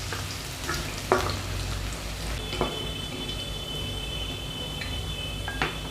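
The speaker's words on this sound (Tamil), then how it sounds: "எண்ணெய் சூடாயிடுச்சு, கட் பண்ணி வச்சுருந்தா பூண்டு சேர்த்துக்கலாம்." Chopped garlic frying in hot oil in a pan, a steady low sizzle running throughout with a few brief clinks and stirring scrapes, no voices.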